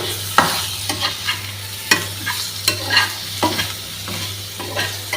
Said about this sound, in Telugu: ఇదైతే కూడా ఉడికేస్తుంది, మాడకుండా చూసుకోవాలి, ఫ్రై చేసుకోవాలి